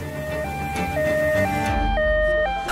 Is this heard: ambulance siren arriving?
yes